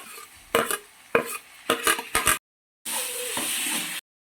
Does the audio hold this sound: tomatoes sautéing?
yes